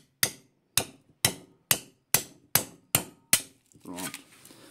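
Wires of a burnt-out electric motor being cut, heard as eight sharp, evenly spaced metallic snaps at close range, each with a short ringing decay, followed by a softer rustle of handling.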